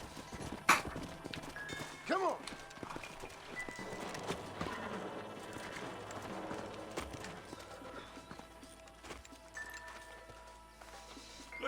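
Horse hooves clip-clop in a Red Dead Redemption Remaster western game scene, with a brief whinny early on, layered under game music, effects and a shouted voice.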